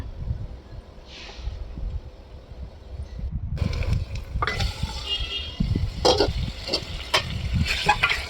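Marinated mutton for a curry goes into a pan of lightly browned ingredients: a quiet low rumble gives way midway to a sudden, louder sizzle with scraping stirs and sharp crackles that continue to the end.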